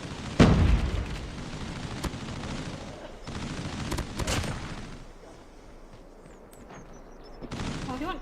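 Call of Duty hardpoint match gunfire and frag grenade blasts: a loud burst near the start, more bangs around three to four seconds, a quieter lull, then another burst near the end.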